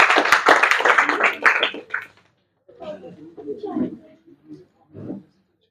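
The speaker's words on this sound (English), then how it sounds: "can we clap for him?" A school induction audience claps in a dense burst for about two seconds, loud and close, then fades; afterward people talk quietly.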